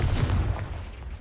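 Confringo fire spell cast in Hogwarts Legacy, a heavy booming blast that rumbles and fades over about a second, loud and close with no talk.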